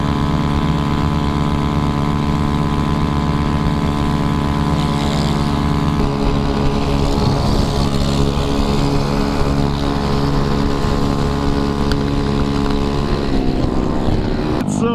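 A TaoTao 150cc GY6 scooter engine at night during a group ride: a steady, loud droning hum that holds throughout with slight shifts in pitch, with no talking over it.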